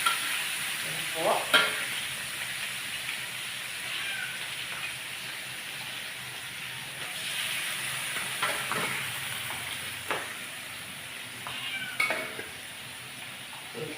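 Marinated meat sautés in a pan, a steady sizzling hiss broken by occasional stirring scrapes and clanks of a utensil, with no talking over it.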